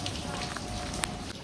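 Steady rain falls outdoors as a family heads out into it, a dense hiss of drops on surfaces filling the whole moment at a constant level, with a faint tap or two standing out near the middle.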